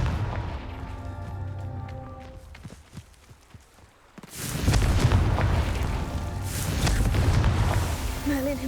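A Confringo fire spell in Hogwarts Legacy on PS5 bursts into a loud, rumbling explosion after a quieter stretch of scattered knocks and thuds, the blast's roar sustained for several seconds.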